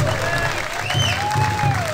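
Enthusiastic crowd applause and cheering after a drum competition, dense clapping with bright tonal whoops and calls rising over it, loud and sustained for the whole stretch.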